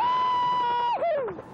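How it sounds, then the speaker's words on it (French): Skydivers celebrate a 39-person canopy formation world record with a long, high, sustained cry of joy that wavers and then slides downward at the end, loud and alone. "Ces cris de joie pour célébrer le nouveau record du monde de voile contact"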